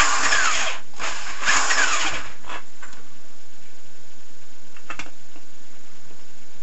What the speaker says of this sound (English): So you just drill out a new step,